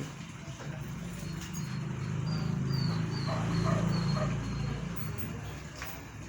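Alabai (Central Asian Shepherd) puppies whimper and yelp softly at moderate distance over a low background hum, the noise swelling slightly in the middle.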